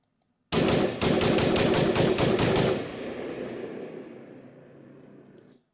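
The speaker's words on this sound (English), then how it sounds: "Here's an AR-15, and I'm just going to play what it sounds like." Rapid burst of AR-15 rifle gunfire played back as a recording: about eight sharp, loud shots in quick succession, followed by a long reverberant echo that fades out slowly.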